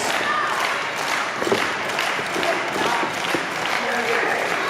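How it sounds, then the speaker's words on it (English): Wrestling event crowd cheers and applauds in a continuous, loud roar with scattered claps and thuds, while a commentator talks over it. "This crowd now fully behind Danger Ross."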